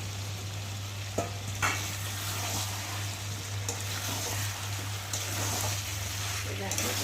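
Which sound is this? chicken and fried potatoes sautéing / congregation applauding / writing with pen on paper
chicken and fried potatoes sautéing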